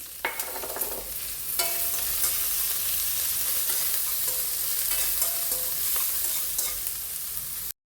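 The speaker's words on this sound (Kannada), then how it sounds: "ಬೆಳ್ಳುಳ್ಳಿ ಹಸಿ ವಾಸನೆ ಹೋಗೋ ತನಕ ಇದನ್ನು ಫ್ರೈ ಮಾಡಬೇಕು. ಈಗ ಹೈ ಫ್ಲೇಮಲ್ಲಿ ಇಟ್ಟಿದ್ದೇನೆ ನಾನು." Garlic frying in a pan over a high flame, a loud steady sizzle and crackle throughout with occasional scrapes of a spoon stirring, no voices.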